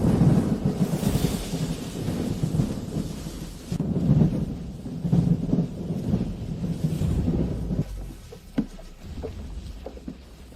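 Thunderstorm rumbling over a swamp, with deep rolling thunder swelling and fading in long waves across the clip, loud and close, with a steady wash of rain or water beneath and no voices.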